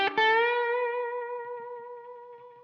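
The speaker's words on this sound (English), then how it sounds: "6 oscillations of vibrato per beat." Blues guitar, a single sustained note with sextuplet vibrato, six oscillations per beat, struck cleanly and ringing out alone as it slowly fades.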